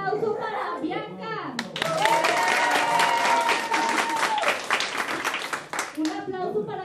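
A small group at a children's party game claps for a girl, a burst of close, crisp applause lasting a few seconds, with children's voices talking before and after.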